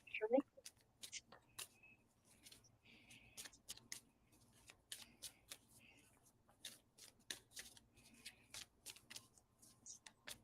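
Soft, irregular riffling and flicking of tarot cards being shuffled repeats throughout, with brief taps in between, fairly close and quiet, with no one speaking.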